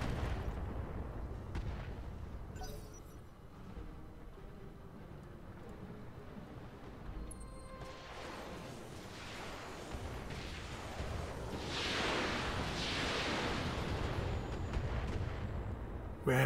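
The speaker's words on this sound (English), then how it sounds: "Shoot the missile carrier." Missile fire from a missile carrier in the game Roguepoint comes as rumbling booms and launch bursts over a low, dense drone, building toward a bright roaring swell near the end, with no speech.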